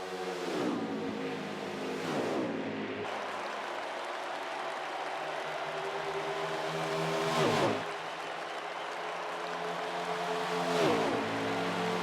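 Stock race cars in a Winston Cup video game at Charlotte scream down the back stretch, several engines roaring in turn as cars pass in waves, with a steady engine drone underneath.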